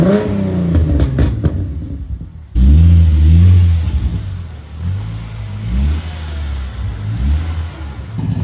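A Genesis Coupe drift car engine cranks briefly, then fires up with a loud roar and settles into a deep, rumbling idle with a few revs, close by.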